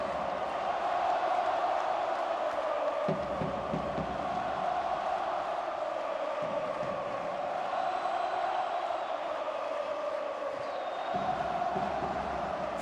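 A basketball arena crowd at a FIBA World Cup qualifier cheers in a broad sustained roar that rises and falls, with a commentator talking over it throughout.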